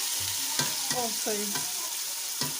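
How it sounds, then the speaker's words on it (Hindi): Onions frying to a light golden brown in a pan for chicken tikka biryani, stirred with a spoon: a steady sizzle runs throughout, with several distinct scraping strokes close by and no talking. "अच्छे से घुमा लेंगे। प्याज हमारे लाइट गोल्डन ब्राउन हो जाए"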